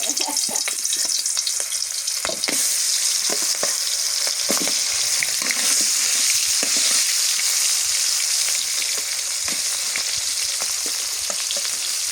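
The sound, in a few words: vegetables frying in oil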